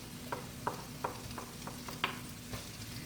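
Spatula or spoon stirring leftover fried rice with sausage in a hot pan, giving a steady sizzle broken by about eight sharp scraping strokes in an uneven rhythm, close and moderately loud with no voices.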